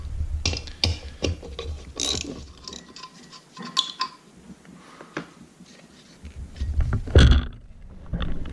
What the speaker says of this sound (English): I'm going to remove the 4 bolts holding the assembly to the wheel.